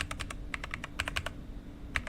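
Keys on an RK Royal Kludge R75 wired 75% mechanical keyboard clack in quick bursts of typing, crisp and close, with short pauses between clusters of keystrokes.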